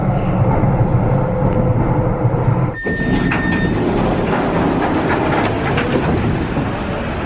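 Driverless automated M4 line metro train at an underground platform in Copenhagen, with a loud continuous rumble, a brief dip, then a tonal chime and clattering rail noise as the train sits at or pulls through the station.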